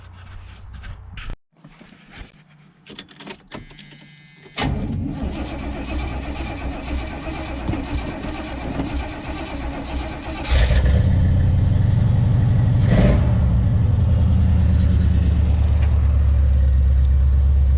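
A 1977 Oldsmobile Cutlass V8 with new exhaust gaskets cranks and starts, then settles into a steady, loud rumbling idle after earlier clanks of tools and mechanical rattling.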